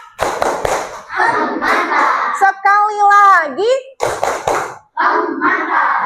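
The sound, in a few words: classroom children clapping rhythmic applause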